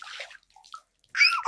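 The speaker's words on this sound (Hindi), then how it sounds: "इतनी ठंड में कोई पानी डाल के जगाता है" Water is splashed over a sleeping man on a cold day: two brief sloshing splashes, close and fairly loud, separated by a quiet gap.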